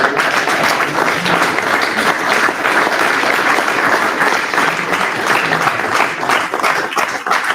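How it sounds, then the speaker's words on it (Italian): A live audience gives loud, sustained applause, dense and steady from start to finish with no voices over it. "però prima facendo un bel applauso chiaramente"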